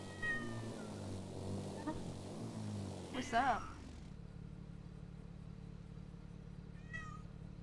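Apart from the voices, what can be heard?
cat (Wolfie) meowing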